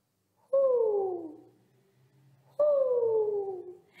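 Human voices imitate an owl, giving two long, drawn-out falling hoots a couple of seconds apart, loud and close in an otherwise quiet room.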